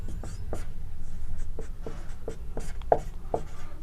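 A pen scratches out a Class 10 maths solution in a series of quick, close strokes and taps on paper at an irregular rhythm, fairly quiet and without speech.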